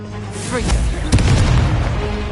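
Confringo, an explosive spell in Hogwarts Legacy, goes off with a couple of sharp booming blasts and a rumbling tail, close and loud, with a whooshing cast sound just before.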